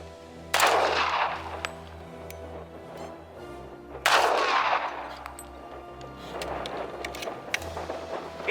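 Two loud, sharp gunshots from a 1911 pistol during combat firing crack out about three and a half seconds apart, each with a ringing tail, over a low background hum.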